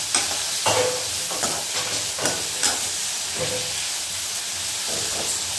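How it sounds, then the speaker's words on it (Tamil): Fresh coriander leaves stirred and sautéing in a hot pan, with a soft steady sizzle under repeated scraping strokes of a spoon against the pan, close and with no talk. "ஸோ நல்லா இதை வந்து நல்லா வதக்கிக்கோங்க."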